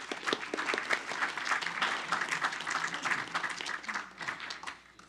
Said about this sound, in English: Let's give her a round of applause again, please.